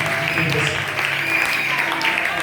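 Congregation applauding at a French-language church service, steady sustained clapping filling the room with voices mixed in throughout.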